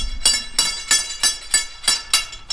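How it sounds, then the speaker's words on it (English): Repeated metallic impacts of a slide hammer on a portable ground rod for an electric fence, seven sharp clanks at a steady rhythm about every third of a second, close and fairly loud with no talking. "It's got a slide hammer and it works both ways, down and up to remove it."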